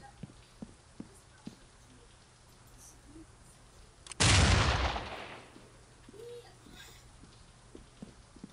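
A single loud, booming blast of a placed explosive charge in the video game SWAT 4 bursts out over faint background noise and scattered clicks, then rumbles and fades over about a second.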